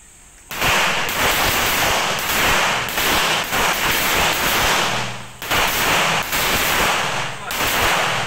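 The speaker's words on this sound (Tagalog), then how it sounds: "Commence firing." Rapid, overlapping gunshots from a marksmanship firing drill, loud, continuous cracking and popping from several shooters for about eight seconds, with brief pauses in the volley.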